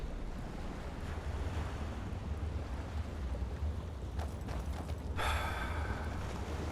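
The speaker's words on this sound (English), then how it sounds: "You hear that? Waves." Ocean waves roll steadily in the Enderal: Forgotten Stories game world, a continuous broad wash of surf with wind, swelling into a louder, hissing break near the end.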